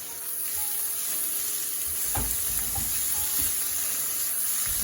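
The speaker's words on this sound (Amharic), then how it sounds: "ከዛ ምን ጨምራለሁ ዝንጅብልና ነጭ ሽንኩርት አብሮ የተፈጨ" Ground ginger and garlic hit a pan of softened onions for curry, a loud continuous hissing sizzle with brief stirring knocks and scrapes, no voices heard.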